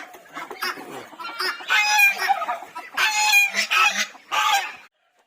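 Hens clucking in a backyard flock with silkie chicks, close by in several loud, choppy bursts with short pauses between them, and no talking.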